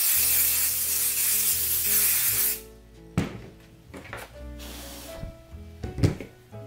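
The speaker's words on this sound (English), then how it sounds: "Spray some temporary spray adhesive up here." Temporary spray adhesive hisses onto fabric in one long continuous burst of about two and a half seconds, followed by a few soft taps and rustles as the can and fabric are handled.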